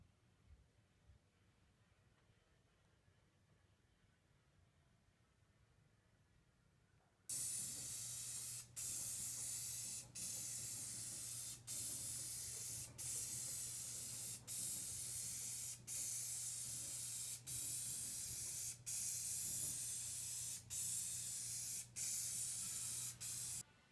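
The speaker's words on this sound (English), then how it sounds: "we'll go ahead and put the white top coat primer over that" Spray gun laying white top coat primer onto a kit car wing in a garage, a loud steady hiss in repeated passes with brief gaps between strokes, alone after a quiet start.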